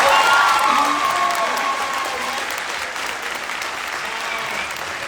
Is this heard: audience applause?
yes